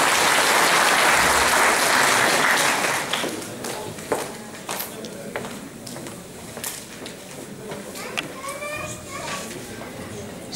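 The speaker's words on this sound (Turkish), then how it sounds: "bu gece için emek veren, koşturan, bizleri buluşturan Ses Gazetesi sahibi Sayın Kemal Erben Beyefendi'yi konuşmalarını yapmak üzere alkışlarla kürsüye davet ediyorum" Audience applause at a memorial gathering for fallen soldiers as a newspaper owner is invited to the podium, loud dense clapping at first that thins out into scattered claps, shuffling and murmurs.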